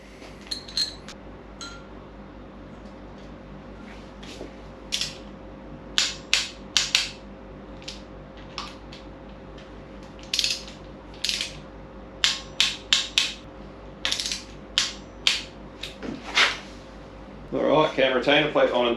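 A cam retainer plate is fitted and torqued onto an LS engine in a workshop: a scattered series of sharp metallic clicks and taps from tools and bolts over a low steady hum, ending in a brief rustle.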